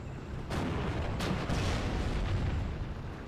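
An M1 gun firing in the WWII strategy game Steel Division, with several deep booming shots over a dense, rumbling battle din, no voices.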